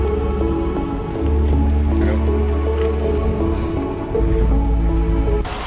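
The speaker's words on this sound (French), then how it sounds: "il pleut toujours autant, il y a du vent" Steady rain and gusting wind roar past a cyclist riding on an industrial road near Repentigny, with a low rumbling drone underneath and brief splashy bursts throughout.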